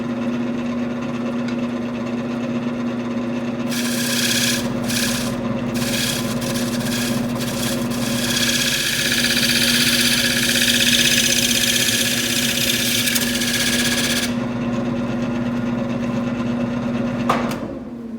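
A lathe spinning a workpiece, a constant motor hum with a steady tonal whine, joined midway by a harsh rubbing, scraping contact that lasts several seconds before easing off.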